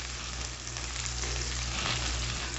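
Chicken pizza cheese sandwich sizzling in butter on a hot tawa, a steady close frying hiss that holds unbroken throughout with no voices.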